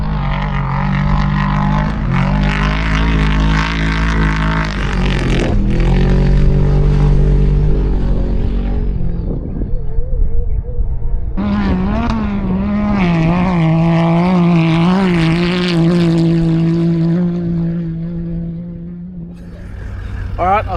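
Race vehicles at the Finke Desert Race roar past one after another, loud engine drones rising and falling in pitch as each passes close by, with a brief lull between passes.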